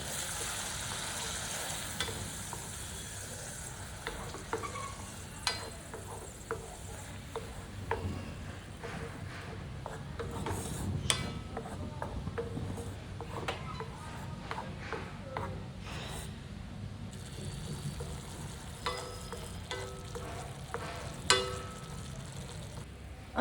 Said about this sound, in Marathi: आता आपण जी वाटलेली पेस्ट होती ती ह्यामध्ये टाकणार आहोत आणि ह्याचा कलर चेंज होतोपर्यंत आपण ही फ्राय करायची आहे.